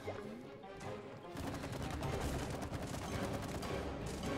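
Shooting at beetle enemies in It Takes Two, a dense rapid stream of gunfire that swells after the first second and continues loudly to the end, with game noise and no clear talk.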